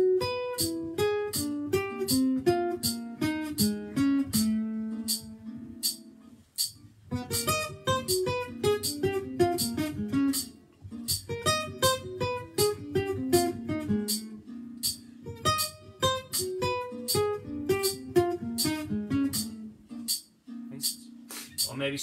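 A plucked guitar picks a steady run of single notes in groups of four, the pattern sidestepping a semitone every four notes, with a brief pause near the middle.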